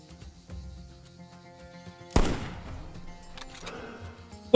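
A single sharp, loud rifle shot at a kangaroo in the Australian hunting game theHunter: Call of the Wild rings out and decays over soft background music, followed by another abrupt sound at the very end.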